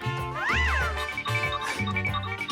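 A cat meows loudly and close, a rising-then-falling cry followed by a couple of shorter meows, with a background music-like tone beneath.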